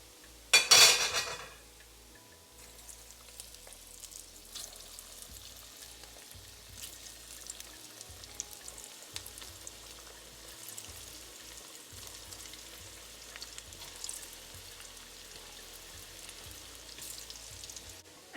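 Mango and cauliflower falafel sizzle steadily in hot frying oil, a continuous crackling hiss with light utensil clatter, after a sharp loud clatter at the start.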